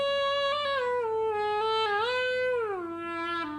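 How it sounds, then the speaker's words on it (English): A fretless guitar with a Fernandes sustainer pickup holds one long, unbroken electric note that swells and glides smoothly up and down in pitch, bowed-sounding and continuous with no decay. "If you add in the sustainer pickup, it sounds like this."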